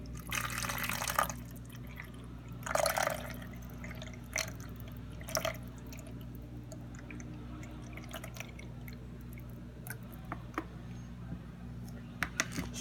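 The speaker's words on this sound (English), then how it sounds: "So we're gonna take this bottle of water, just pour in some water," Bottled water poured into the tank of an Arctic air conditioner: two short splashing pours near the start, then quieter trickles and small drips over a low steady hum.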